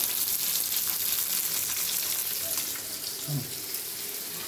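Fish frying in a pan gives a steady, soft broadband sizzle that runs unbroken throughout, fairly faint, with a brief low clatter near the end and no talk.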